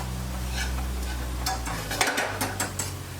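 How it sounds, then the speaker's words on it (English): Onion being stirred as it caramelizes in a pan on the stove, a low sizzle under scraping and a few sharp clinks of the utensil against the pan near the end, close and moderately loud. "Let's give this a stir. I don't want to burn my onion, just caramelizing it."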